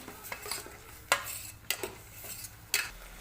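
Spatula scraping and clinking against a pan as radish pods are stir-fried with crushed peanuts and salt, with a few sharp metallic knocks spaced across a quiet background.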